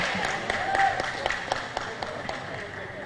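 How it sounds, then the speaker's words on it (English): An audience at a junior and senior table tennis championship awards ceremony claps in scattered, moderate applause, with a voice speaking over it early on. "Can we give them a round of applause, please?"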